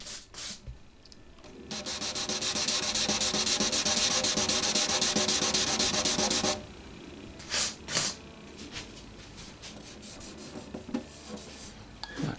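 A guitar finish is wet-sanded by hand with 600 grit sandpaper, giving a steady loud rubbing hiss for about five seconds, then short separate strokes with pauses between them.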